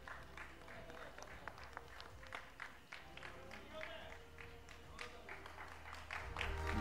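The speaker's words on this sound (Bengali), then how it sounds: "জোরে তালি।" Faint, distant crowd applause at an award ceremony during a TV channel's anniversary cultural event, a steady patter of many hands clapping that continues throughout.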